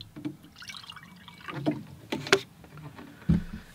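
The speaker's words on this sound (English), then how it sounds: "Let me pour out some fresh, clean water." Fresh, clean water is poured into a container during a watercolor painting session, heard as soft, irregular liquid splashes and sloshes with a few brief, sharper spills, fairly close and with no talking.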